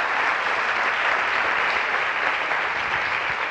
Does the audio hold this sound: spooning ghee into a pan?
no